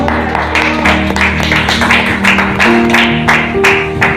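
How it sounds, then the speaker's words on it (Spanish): A church congregation claps in a dense, rhythmic patter with music playing underneath, loud and continuous throughout. "¿Cuánto le dan palmas al Señor?"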